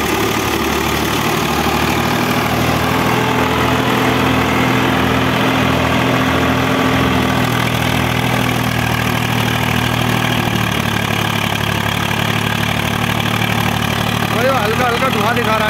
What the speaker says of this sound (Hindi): 855 चल रहा है थ्रेसर पे